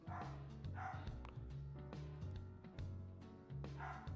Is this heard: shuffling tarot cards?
no